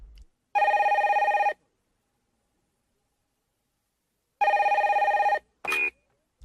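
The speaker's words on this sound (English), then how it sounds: "Then the phone rings." A telephone rings in two long, loud electronic trills separated by a few seconds of silence, then a short click as it is picked up.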